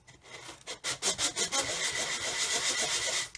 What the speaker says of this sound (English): I'm going to get a piece of coarse sandpaper and then go over here onto a flat area